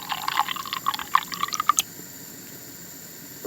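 Water poured for miniature cooking: a light, bubbly trickle with small plinks for nearly two seconds, then quiet.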